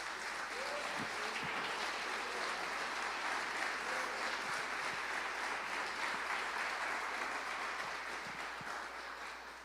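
A church congregation claps together in sustained, dense applause that fills the room at an even, loud level for the whole stretch, with no voice standing out above it.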